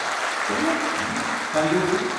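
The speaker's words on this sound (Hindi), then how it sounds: "अरे तालियां तो बजाओ अपने सर।" Audience at a school alumni meet applauding, a moderate steady clapping under a voice talking over it.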